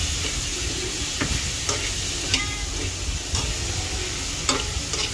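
Chili peppers and vegetables sautéing in a pan for chop suey, a steady broadband sizzle with occasional stirring clinks and scrapes, close and continuous with no talking.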